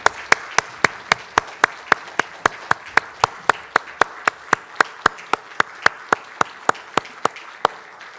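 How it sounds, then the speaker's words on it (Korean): Congregation clapping at a Sunday church worship service: a steady, evenly spaced run of sharp, crisp claps in one tight rhythm, continuing for several seconds with no talk over it. "하나님께 영광의 박수 올려드리겠습니다"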